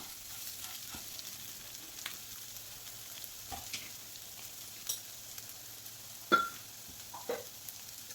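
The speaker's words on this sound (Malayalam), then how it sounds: "പിന്നീട് അതിലേക്ക് എടുത്തു വെച്ച അവിലിട്ട് കൊടുക്കാം എല്ലാം കൂടി ഒന്ന് നല്ലതുപോലെ ഇളക്കി കൊടുക്കുക" Flattened rice (aval) upma is stirred in a pan, giving faint, sparse scrapes and soft clicks of a spoon over a low sizzle, quiet and close.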